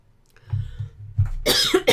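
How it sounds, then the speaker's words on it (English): A single close cough bursts out after a few soft throat sounds, short and sharp in a quiet room. "I'm going to cough."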